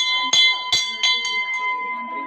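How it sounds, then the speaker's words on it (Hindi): A temple bell is struck several times in quick succession, each clang ringing out with a lingering metallic tone that fades between strikes. "आगे प्रथम घंटी बजे एंट्री करिए"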